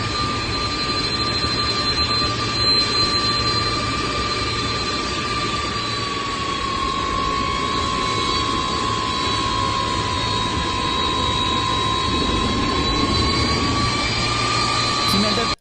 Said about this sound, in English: This is the first Iranian plane arriving with aid. Just landed